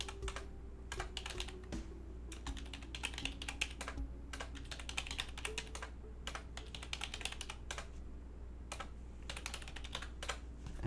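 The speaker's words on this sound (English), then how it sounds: "trying typing a bunch of different words here" Someone types on a computer keyboard while playing the puzzle game Lingo, with bursts of quick, irregular key clicks and short pauses over a faint low hum. The typing is quiet and close, with no talking.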